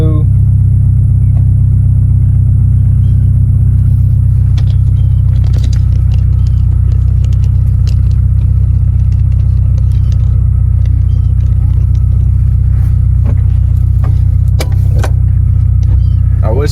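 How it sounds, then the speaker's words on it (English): Interior of a Honda Integra on a test drive around the block with new coilovers: constant heavy engine and road rumble, close and loud, with scattered knocks and rattles from the suspension and cabin, and occasional voices. "we're gonna go for a little quick test drive around the block, and we're gonna see how these coilovers feel"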